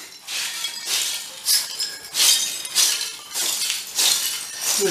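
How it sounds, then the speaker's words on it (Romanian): A glass surface tapped repeatedly gives bright, ringing clinks, about eight evenly spaced taps close by, each with a short shimmering ring. "Aude ca sticla, vezi?"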